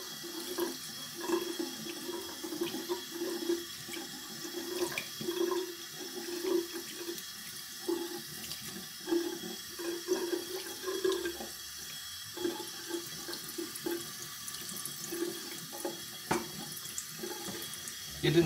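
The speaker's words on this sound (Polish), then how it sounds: "Więc jak zawsze w tym czasie umyję pędzel, żeby nie marnować czasu." A bathroom tap runs steadily into a sink while a shaving brush is rinsed under it, the water splashing and shifting with the brush's movement in a continuous, moderately close wash with no voices.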